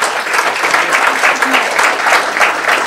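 Audience applause at an award felicitation ceremony, a steady burst of clapping from a hall crowd lasting throughout, with no voices over it.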